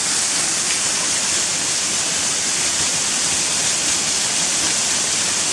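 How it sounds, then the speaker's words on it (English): Waterfall on a walk from Gunnerside to Muker pours down into a pool, a steady, loud, broadband rush of splashing water that holds unchanged and close throughout, with no voices. "So this is the waterfall that I couldn't see last time I came along here"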